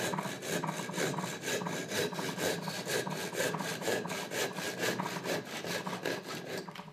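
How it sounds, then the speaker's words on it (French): A piece of wood being cut with a hand saw, the steady back-and-forth rasping strokes continuous, close and even for several seconds. "Sciez éventuellement le dernier morceau de bois."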